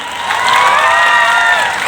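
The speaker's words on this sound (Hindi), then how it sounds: "तालियां" A youth festival audience at Indira Gandhi University in Rewari cheers and shouts together, a loud, close, sustained roar of many voices with clapping mixed in.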